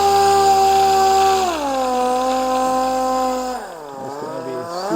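A power sander with 2000 grit dry sands the paint on a BMW X5, giving a loud, steady motor whine whose pitch drops twice as the load changes, heard alone at close range.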